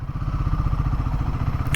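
Royal Enfield Himalayan 450 motorcycle from 2024 with engine guard and hand guards, its engine thrumming steadily and close while riding, a low rhythmic pulse held throughout with no talk.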